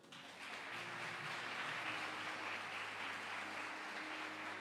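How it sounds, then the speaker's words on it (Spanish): Congregation in a church breaks into applause, a broad, even wash of clapping that swells in quickly and holds steady, fairly quiet and heard from a distance with a faint hum beneath. "Denle un aplauso al Señor."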